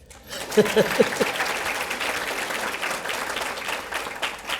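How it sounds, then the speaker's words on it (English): Audience applause at a high school STAR Awards ceremony in Arlington ISD, greeting the valedictorian: a broad, steady wash of clapping from a crowd, with a brief voice near the start, sustained evenly throughout. "We can clap."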